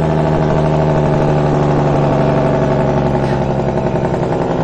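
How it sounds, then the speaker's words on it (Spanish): A Kenworth T600 truck's engine brake in American Truck Simulator, driving a Mexican route from Mazatlán to Culiacán, gives a loud, close, rumbling drone that holds steady for several seconds before cutting off sharply at the end. "Suena muy bien el freno de motor"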